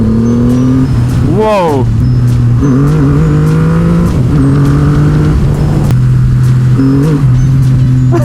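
A Triumph Rocket 3 motorcycle revs loudly as its rear tyre slips in third gear, engine pitch sweeping sharply up and down in bursts over a steady drone, with a brief exclamation from a voice.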